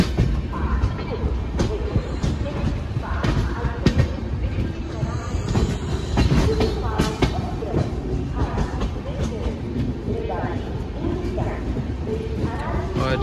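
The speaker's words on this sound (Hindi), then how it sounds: "एंटर किया हमारी ट्रेन ने फुलेरा जंक्शन पे 12 मिनट की देरी के साथ।" The 12065 Dee Janshatabdi train (Ajmer to Delhi) pulling into Phulera Junction: a loud, steady rumble with rhythmic wheel clatter heard from on board, with voices mixed in.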